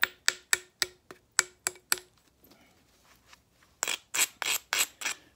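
A stone spall is struck at its platform angle during flintknapping, giving a rapid run of sharp, close knocks, then a pause, then a second burst of harder, rasping strikes.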